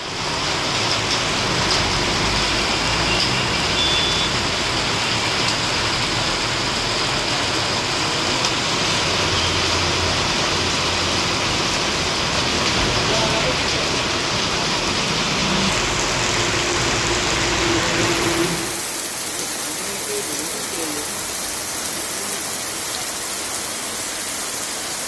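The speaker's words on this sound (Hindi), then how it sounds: "करीब 1 घंटे तक हुई मूसलाधार बारिश ने पूरे शहर को तर कर दिया।" Torrential downpour over Indore, a dense steady roar of heavy rain on city surfaces that continues unbroken, then turns softer and thinner near the end.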